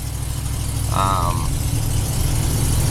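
A 1970s Ford truck engine runs steadily in the cab, a low continuous rumble under a brief tonal chirp from inside the vehicle.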